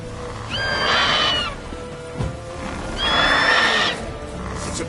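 Roach, a horse in The Witcher 3, neighs in two loud, drawn-out whinnies with a steady run of hoofbeats and ambient game sound underneath; no voices.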